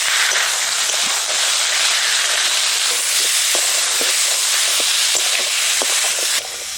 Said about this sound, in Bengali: দিয়ে দেবো মশলা আদা শুকনো লঙ্কা বাটা হলুদ আর দিচ্ছি স্বাদ মতো লবণ এবার ভালো করে কষিয়ে নেব